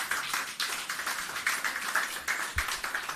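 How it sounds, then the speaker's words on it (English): A small audience at a Hurricane Melissa recovery media briefing claps faintly at a distance, a steady patter of hands with no voices over it. "Keep the applause going."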